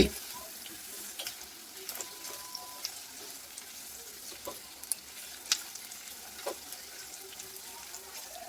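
Capsicum frying in a pan over high heat gives a soft steady sizzle near the mic, with scattered sharper pops and stirring clinks at an uneven pace.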